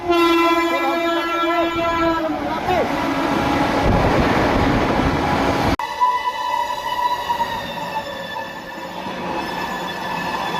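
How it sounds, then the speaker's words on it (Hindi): The Kanpur Shatabdi Express roars past at around 130 km/h, its horn blaring in long sustained tones over the heavy clatter and rush of wheels on rail, loud and close, then fading into a lingering hum. "दिल्ली को जाने वाली कानपुर शताब्दी एक्सप्रेस फुल 130 की स्पीड में।"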